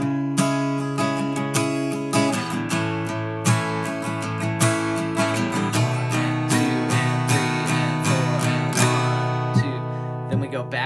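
Acoustic guitar strums steady downstroke eighth notes of a song, bright ringing chords played alone without talking.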